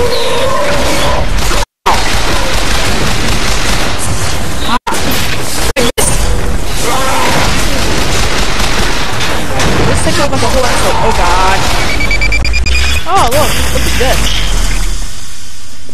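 Rocket automaton explosions in BioShock Infinite: loud booms and crashing blasts in a dense, chaotic mix with gunfire and mechanical clatter, broken by a few abrupt silent cuts.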